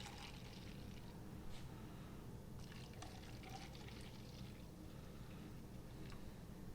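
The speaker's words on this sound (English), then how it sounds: "I'm gonna give it a hard pour." Nitro cold brew coffee is poured hard from a can into a glass, a faint steady liquid rush with small splashing and fizzing bits over several seconds, and no talking.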